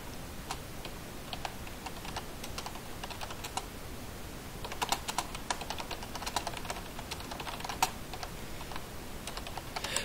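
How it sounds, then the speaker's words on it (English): Loud clicky computer keyboard typing during a Minecraft minigame session, with irregular rapid keystrokes up close, sometimes in quick clusters and sometimes in isolated taps. "My keyboard is so loud."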